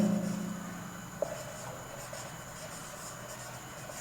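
Pen or chalk writes out a math problem in brief, faint scratchy strokes over a steady background hum, with one small tap partway through.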